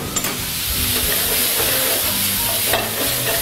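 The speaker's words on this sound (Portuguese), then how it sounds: "Uma colher mais ou menos grande de vinho branco na frigideira." White wine hitting a hot frying pan with picanha, a loud continuous sizzle and hiss with some stirring clatter, close up and steady throughout.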